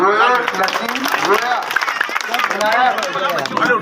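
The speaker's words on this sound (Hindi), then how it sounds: "लाडली लक्ष्मी के लिए जोरदार ताली बजाओ" A crowd at a village gathering in Mandsaur claps loudly and steadily, with dense overlapping hand claps and voices mixed through the applause for its full length.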